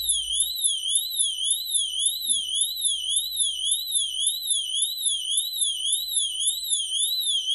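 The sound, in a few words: smart water valve alarm sounding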